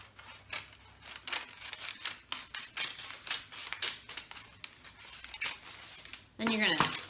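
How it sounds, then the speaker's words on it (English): Scissors snip steadily through a flattened plastic bag, cutting it in half along one edge with a quick run of crisp, close cuts and a rustle of plastic at the end. "now that you've got your bag all flat, you're going to cut it in half along one of the edges."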